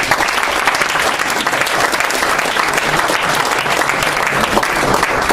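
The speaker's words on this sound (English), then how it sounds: "So let's give another round of applause to all of the presenters tonight." Audience at an enterprise technology meetup in New York breaks into sustained applause for the evening's presenters, a dense, even wash of many hands clapping at steady loudness for the whole stretch, with no voices standing out.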